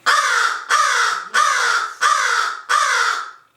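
A crow caws five times in a slow, even series, each harsh call loud and close with short gaps between.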